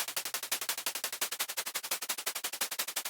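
Rapid, evenly spaced electronic percussion hits with softened attacks repeat in a tight neurofunk loop, bright and fast with no gaps, heard alone and at moderate volume.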